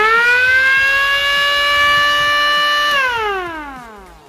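A homemade anti-theft home alarm triggered by a photoelectric light sensor wails as a loud electronic siren, holding a steady high tone before sweeping downward and fading.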